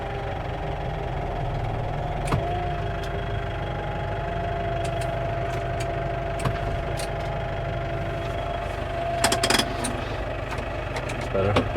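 Tractor engine idling while driving a Zago shredder through its PTO shaft: a loud, steady low rumble with a continuous mechanical hum and faint knocking, close by, with occasional clicks and clatter and no talk.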